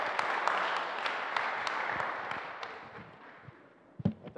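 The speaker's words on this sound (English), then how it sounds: "let's give a warm applause to Professor Red." Audience applause at a live debate on the existence of God in Manila, a dense patter of clapping that gradually thins and fades over several seconds before a few louder scattered sounds near the end.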